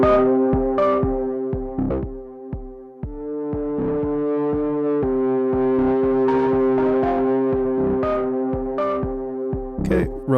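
A synth line runs through an Elektron Analog Heat on its mid drive distortion setting. The crunchy, saturated notes are steady and upfront, with no talking.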